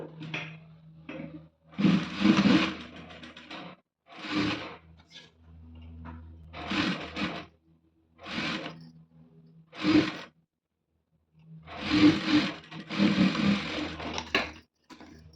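A sewing machine stitches the neck of a readymade blouse in a series of short whirring bursts separated by quiet pauses, close by and fairly soft.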